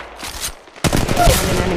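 Close, loud gunfire in Apex Legends Mobile erupts after a brief lull, a dense rapid volley of shots with a whistling ricochet-like tone riding over the burst.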